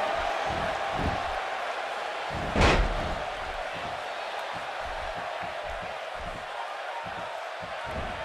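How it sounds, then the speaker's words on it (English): One loud, booming body slam onto the ring mat in a WWE 2K18 recreation of Melina versus Mickie James at Backlash 2007 lands sharply over a steady arena crowd roar, while a commentator talks throughout. "And her whole body comes slamming down"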